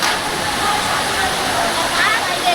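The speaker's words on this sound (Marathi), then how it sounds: "पावसाने बघा असा जोर धरला आहे" Heavy rain pours at a Mahalakshmi temple in Khanivade, Virar, a dense, steady roar of falling water that fills the whole moment without a break.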